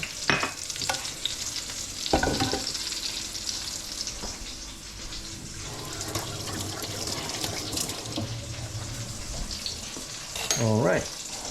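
A sauce reducing in a pan alongside pan-fried duck breast, a continuous low sizzle and bubbling with occasional stirring knocks and clatters, a brief louder clatter near the end, faint voice in the background.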